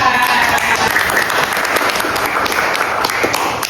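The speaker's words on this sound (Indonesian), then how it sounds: "Tepuk tangan." Audience applause following a classroom presentation at a teacher performance assessment session, steady dense clapping from a roomful of people filling the whole stretch at even loudness.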